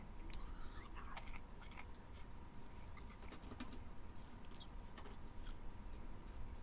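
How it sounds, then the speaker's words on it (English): Goldfish crackers being chewed close to the mic, a faint crunching with scattered soft clicks over a low, steady background hiss. "If you hear me chewing, I'm chewing on goldfish."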